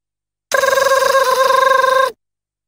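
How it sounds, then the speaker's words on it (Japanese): A telephone rings in the JoJo's Bizarre Adventure PS2 video game, one sustained electronic bell trill with rapid pulsing, loud and isolated, starting and stopping abruptly. "電話のコール音。"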